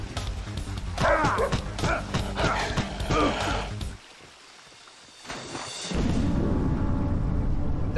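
A guard dog in Splinter Cell's Chinese Embassy level on Xbox One barks several times in quick succession over loud game ambience, then a brief lull falls before a steady rumbling background returns.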